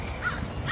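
A single crow caws once, moderately close, against a steady outdoor background hum.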